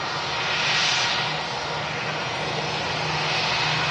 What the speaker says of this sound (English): Look at them engines.